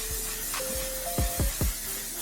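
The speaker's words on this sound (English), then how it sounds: "I'm going to top it off with One Size's Until Dawn setting spray." One Size Until Dawn makeup setting spray being misted, several quick hissing pumps close up, mostly bunched in rapid succession near the end, with no talk.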